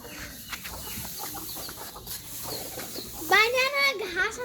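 A brooding hen sitting on eggs in a rural yard clucks softly, then gives a louder drawn-out squawk near the end, heard close up beneath faint background voices.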